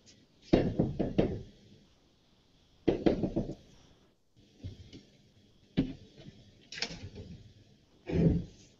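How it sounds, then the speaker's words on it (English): Knuckles rap on a morgue door in several uneven clusters of two to four knocks, spread over a few seconds and fairly faint in a quiet room. "always knocks on the morgue door before he enters"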